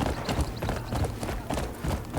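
Horse hooves clip-clopping in the video game Crimson Desert, a quick, steady run of soft hoof beats over a rumbling background, fairly close and moderately loud, with no speech.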